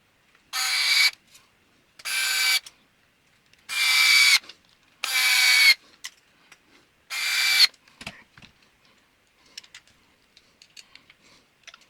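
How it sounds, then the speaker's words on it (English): A driver screws parts of a Mugen MSB1 RC car gearbox together, making five loud, evenly spaced bursts of high whirring screw-driving, each about half a second to a second long, followed by scattered faint clicks and handling noises. "And then just screw it together."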